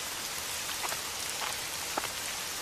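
Steady cartoon rain pours down without pause, a dense even hiss of drops on surfaces with a few slightly louder patters, and no voices.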